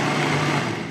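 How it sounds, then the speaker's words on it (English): A blender whirs at high speed, pureeing homemade sriracha hot sauce of chilies blended with vinegar, a loud, steady motor drone filling the whole moment without any speech. "blending this up to get it a little bit more smooth."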